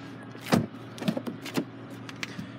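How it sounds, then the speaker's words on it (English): Rear power windows in a 2015 Chrysler 300S cycling, giving a few short whirring motor bursts with soft clicks and thumps, close and fairly quiet. "Got your power windows back here as well."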